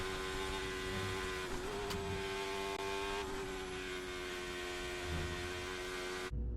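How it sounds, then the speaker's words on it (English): A Formula 1 car engine screams past at high revs through the esses at Circuit of the Americas in Austin, Texas, a sustained whine with slight pitch shifts as it brakes and accelerates, then cuts off. "Let's take a look at how quickly an F1 car can take the S's in the Circuit of the Americas"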